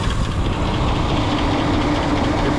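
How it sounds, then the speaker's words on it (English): A car engine idles steadily with the air-conditioning compressor clutch engaged during a diagnostic check of slow cooling, producing a continuous, even mechanical hum and rumble close by with no talk. "Let's check the compressor clutch again."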